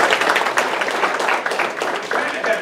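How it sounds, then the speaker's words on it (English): An audience applauds a former Summer Creek High School principal at a school district event, steady clapping filling the room for a few seconds with a voice briefly audible over it. "Please give him a round of applause."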